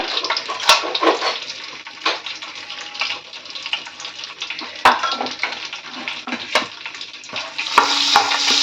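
Whole garam masala spices sizzle and crackle in hot ghee and oil while a utensil scrapes and stirs the pan, giving irregular clinks over the steady frying hiss.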